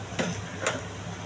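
Colocasia (taro root) fry sizzles softly in a pan in a village-style kitchen, with two quick scraping stirs standing out over the steady hiss.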